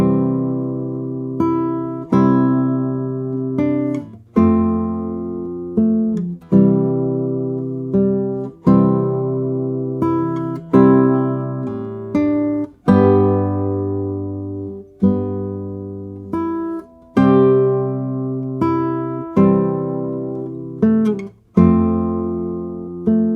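Solo fingerstyle acoustic guitar plays Amazing Grace in a full chordal arrangement, the melody carried over sustained chords with a bass line, a steady unhurried strum-and-pluck rhythm at close range with no talking.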